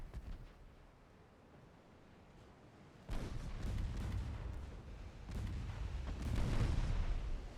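Heavy 9.8-inch naval guns fire in the warship game Ultimate Admiral Dreadnoughts. After about three seconds of low rumble, three loud, deep booming salvos roll out, each trailing into a long rumble.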